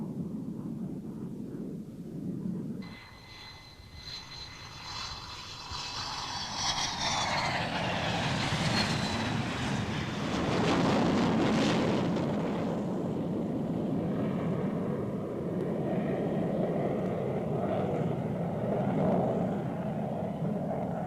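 An F-15 jet fighter comes in to land with an F-4 chase plane following, a rising roar of jet engines swelling from a low rumble into a loud, broad whine that lingers and slowly fades.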